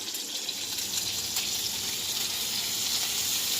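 Onion, mushroom, mixed pepper and zucchini hit a pan of browning meat for a pasta dish, setting off a loud, steady, close sizzle that holds evenly throughout.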